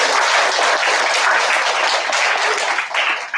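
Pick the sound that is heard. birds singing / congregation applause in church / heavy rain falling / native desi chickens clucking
congregation applause in church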